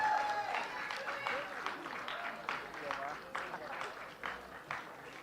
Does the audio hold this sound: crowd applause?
yes